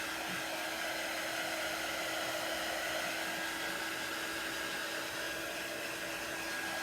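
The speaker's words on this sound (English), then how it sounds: "So I am using a heat tool." An embossing heat tool blowing hot air, a steady, even, loud whooshing roar with a faint whine that holds unchanged throughout, with no voices.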